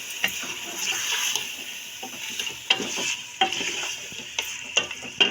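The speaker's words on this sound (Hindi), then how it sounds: "अच्छे से मिक्स करेंगे" Beef with tomatoes and spices being stirred in a hot pan: a steady sizzle with repeated scraping and clacking strokes of a spoon, fairly close, with no talking.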